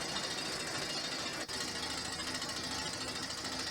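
A URV-2A2 drilling rig pounds and grinds continuously at close range while drilling a borehole, a loud dense mechanical clatter with only a momentary dip in the noise.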